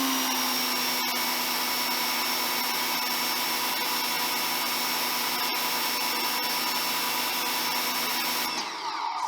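A Greenworks electric pressure washer runs with a steady, loud motor whine and hiss that holds constant, then cuts off near the end.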